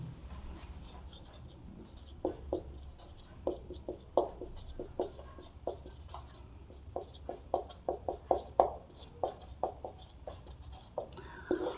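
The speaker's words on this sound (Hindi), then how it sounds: "इसका सूत्र मैं लिख देता हूं" A pen scratches and taps across paper as a math formula is written by hand, short irregular strokes growing busier and louder toward the end, close up and without speech.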